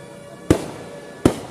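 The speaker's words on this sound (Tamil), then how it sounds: "வானவேடிக்கை பட்டாசு வெடிப்பு" Fireworks and firecrackers burst at the last day of a Murugan temple chariot festival at Pasumalai, two sharp, loud booms about three quarters of a second apart over a quiet background.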